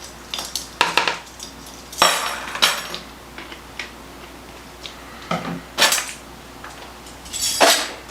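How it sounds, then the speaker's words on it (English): A utensil scrapes and clinks against a bowl while mixing pineapple bar batter, coming in several loud, irregular bursts with quieter stirring in between and no talk. "now we're going to mix this till it's well combined"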